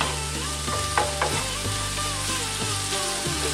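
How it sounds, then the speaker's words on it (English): Vegetable samosa filling frying over medium heat in a pan: a continuous close sizzle with repeated scraping strokes of stirring, and no talking. "We're going to cook this for about 8 minutes, I would say, on a kind of medium-ish heat."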